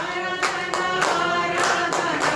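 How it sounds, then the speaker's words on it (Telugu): A congregation claps in rhythm during Sunday worship, steady rounds of hand claps repeating every half second or so, full and close, with some singing or voices underneath. "చప్పట్లు కొడదాం."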